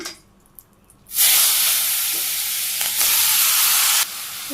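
Ash gourd and vegetables dropped into a hot pan with cumin, bursting into a loud, steady frying sizzle after a quiet start, holding strong and then easing slightly near the end.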